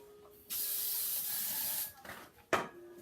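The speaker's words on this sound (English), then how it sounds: "So if you grab a paper towel or something, make sure you spread it all around." A paper towel rubs grease across a metal cake baking pan, giving a sustained scratchy swish followed by a few shorter, sharper wipes.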